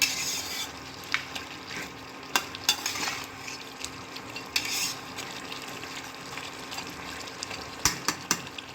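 Mutton sizzles softly in a pot while a utensil stirs and scrapes, giving scattered clinks and taps over a low frying hiss.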